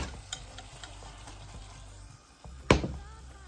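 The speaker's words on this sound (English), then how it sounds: "That's sizzling." Stuffed baked potatoes with herbs and collards sizzle softly in a pan with light scraping and a sharp clatter near the end, close and without talk.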